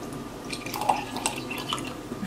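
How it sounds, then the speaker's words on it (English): Orange juice is poured into a small glass, a soft trickling splash with light glassy clinks and drips, close up and fairly quiet against faint background noise. "So we're just gonna go in with a little orange juice."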